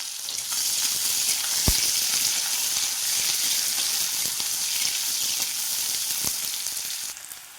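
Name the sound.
chopped onion frying in oil with five-spice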